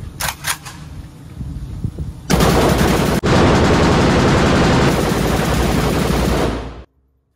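A Serbian M92 automatic rifle fires on a machine gun range: a few sharp single shots, then loud, sustained full-auto bursts close by with a brief break, ending abruptly in silence.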